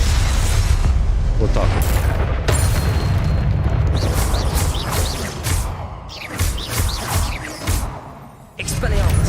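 A Confringo blasting spell explodes in Hogwarts Legacy, booming blasts and crashes that repeat through heavy game battle noise, while someone talks over the action.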